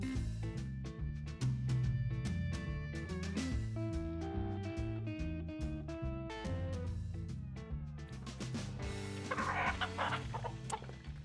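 A rooster at a simple backyard chicken coop clucks in a steady run of short, throaty calls, fairly close and continuous throughout, with no talking.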